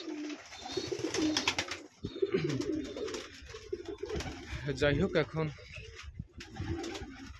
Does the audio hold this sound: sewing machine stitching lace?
no